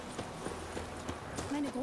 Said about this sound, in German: Wo ist denn das Pferd jetzt?